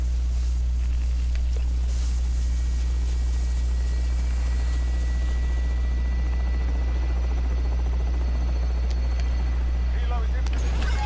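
Helicopter in a Call of Duty Warzone match, a loud steady rotor and engine drone with a deep hum running the whole time, under occasional game sounds and voices.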